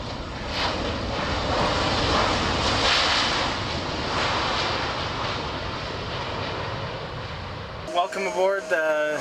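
Air Canada Embraer 190 jet engines roar steadily in a broad, loud cabin drone for most of the clip, ending abruptly as a voice begins speaking over a quieter background.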